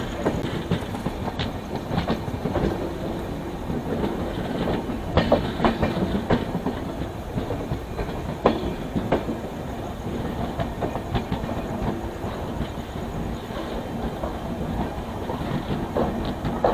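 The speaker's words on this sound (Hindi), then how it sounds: "अभी हमारी ट्रेन बिहार के एक बहुत ही important railway station Katihar junction में एंटर कर रही है" A train rolls on rails into Katihar Junction in Bihar, a steady loud rumble with rhythmic clickety-clack of wheels over rail joints and occasional sharp clanks, continuous throughout with no talk.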